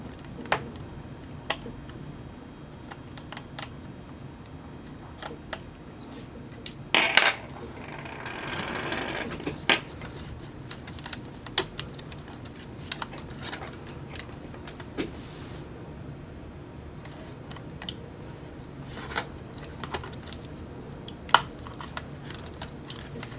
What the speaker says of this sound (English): Okay, taking out the wireless card now.